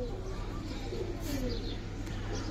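A black Giribaz pigeon coos in soft rolling phrases amid a low steady hum and faint chirps from other birds, fairly close.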